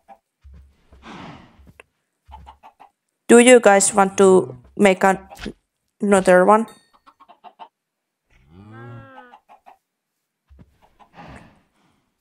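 Chickens cluck in the Minecraft Simple Life 2 modpack, brief faint in-game clucks scattered between bursts of a man's nearby speech.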